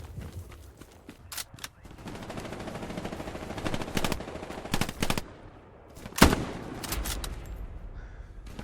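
Gunfire in the World War II shooter game Hell Let Loose comes in rapid machine-gun bursts and scattered single shots, with a sharp loud blast near the middle over a low battlefield rumble.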